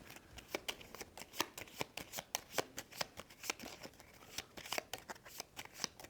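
Cards from the Stellarion board game being riffled and shuffled by hand, a rapid run of crisp, close flicks and slaps at a quick, regular pace, with no talking.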